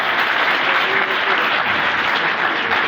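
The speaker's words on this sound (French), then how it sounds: "Merci d'applaudir encore." Loud, dense applause from a crowd, an even wash of many clapping hands sustained without a break.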